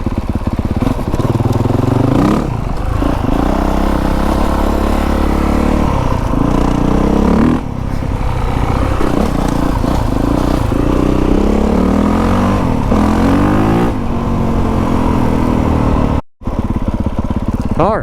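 A new dirt bike engine revs loudly and continuously close by, its pitch climbing and dropping through repeated throttle blips and gear changes, with a brief cut near the end.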